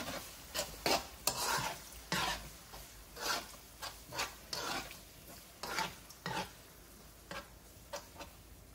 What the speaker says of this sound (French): Et puis, on mélange.